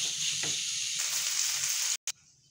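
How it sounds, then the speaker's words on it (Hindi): Masala-marinated boneless chicken sizzles and fries steadily in a pan over medium heat, a continuous close hiss with brief stirring scrapes, cutting out abruptly near the end. "अब जो मैंने चिकन को मसाला लगा कर रखा है वो इसके अंदर डाल दूँगी। मीडियम आंच पे हम लोगों ने इसको अच्छी तरह से 3 से 4 मिनट के लिए कुक कर लेना है।"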